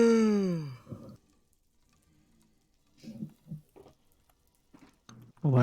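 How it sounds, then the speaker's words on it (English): A loud human yawn opens with a strong, rising-then-falling voiced stretch lasting about a second, followed by quiet room tone and a few soft, indistinct vocal sounds. "It was a yawn."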